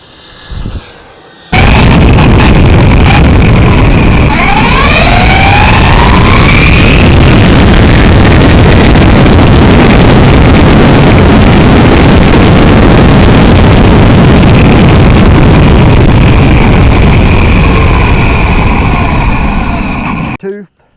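A Rlaarlo Omni Terminator RC car on a 3S battery with a 24-tooth pinion runs at full throttle, a loud, sustained electric motor whine with rising pitch sweeps, close and continuous after a brief quiet start, with wind noise.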